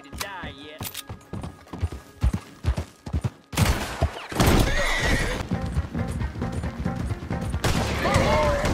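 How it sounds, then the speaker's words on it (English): Horses whinny loudly and hooves clip-clop on the ground while riders dismount, with repeated neighs over steady hoof clatter, mechanical clinks and some talk in the background. "Best leave the horses back a bit."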